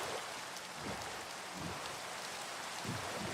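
Steady rain falling in the Minecraft video game world, an even, dense hiss of drops with no breaks, quiet and alone without any voices.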